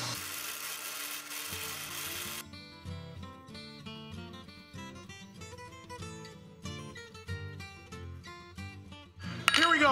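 Metal rings for a cauldron build are tapped into alignment, giving a series of short ringing metallic clinks in an irregular rhythm, close and fairly clear, with some tonal resonance between strikes.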